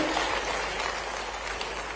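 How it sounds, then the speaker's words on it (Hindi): An audience claps at the Rewa regional industry conclave of a global investor summit, producing a continuous, dense, fairly close wash of applause with no voices over it. "ताली वाली बजाओ भाई"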